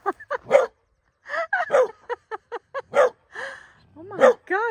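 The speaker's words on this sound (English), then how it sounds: "I've never even heard him bark like that." A dog barks in a rapid, excited series of sharp, loud yips and barks, close by, with short gaps and a whimpering edge, during an outdoor farm outing.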